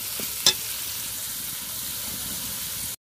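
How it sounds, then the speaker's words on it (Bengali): Kul fruit mash stirred and frying in a pan, a steady soft sizzle with one sharp scrape of the spoon near the start, continuous until an abrupt cutoff. "নাড়তে থাকবো।"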